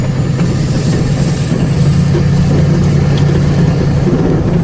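A GMC Sierra pickup with a transmission stuck in second gear drives along, giving a loud continuous low engine drone and road rumble from inside the cab, with no talking.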